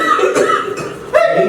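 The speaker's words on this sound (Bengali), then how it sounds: "কাশছো কেন?" A person coughs a few times in quick bursts, in what appears to be a comic sketch set during the coronavirus pandemic, the coughs close and fairly loud with no talk over them.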